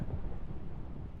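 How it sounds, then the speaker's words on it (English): Rumbling thunder from the video game Candle's Quest, a dense low roll that stays steady and fairly loud throughout, with a rain-like wash and no voices. "Spooky thunder."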